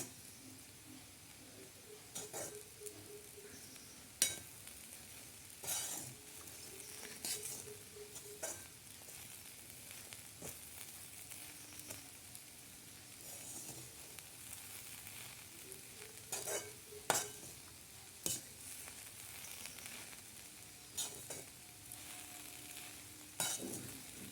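Upma being sautéed and stirred in a pan: a low steady sizzle broken by repeated scraping strokes of a spoon against the pan at irregular intervals, close and moderately loud, with no talking.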